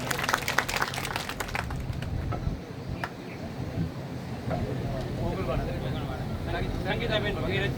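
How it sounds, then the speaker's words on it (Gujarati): Crowd applause at a BJP political meeting in Gujarat: a dense patter of clapping in the first couple of seconds, then continued noisy crowd sound beneath a loud amplified voice. "તાળીઓ પાડો ને ભાઈ."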